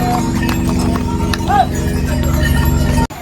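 Horses carry pilgrims along the Kedarnath trail, their hooves clip-clopping and their tack clinking among a bustling crowd. Voices and a brief whinny sound close by.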